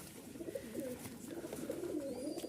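A single female pigeon coos in soft, low, repeated warbling phrases close by, with a faint chirp in the background.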